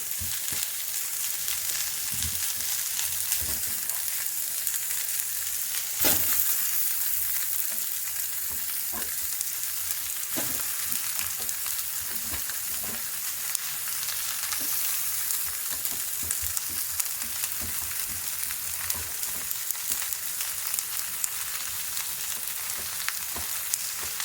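Green papaya and mashed potato sizzle and fry steadily in a pan with coriander, a dense continuous crackle punctuated by occasional stirring scrapes, close and loud with no talk.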